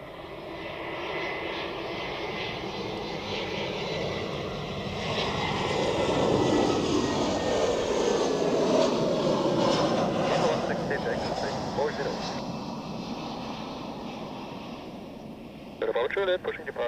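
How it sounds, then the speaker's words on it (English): A jet airliner lands at Zurich Airport: a broad, steady engine roar swells to a peak midway, then slowly fades as the aircraft rolls out, heard from a distance. "Touchdown, spoilers up, and no time to rest"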